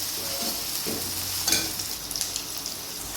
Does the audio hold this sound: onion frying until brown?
yes